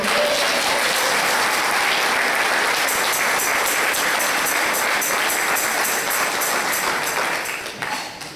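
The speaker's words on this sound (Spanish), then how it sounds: "Entonces démosle un aplauso al Señor." A church congregation at a deliverance and healing congress applauding the Lord, a loud, dense, sustained roar of clapping hands that stays even throughout before tapering slightly at the very end.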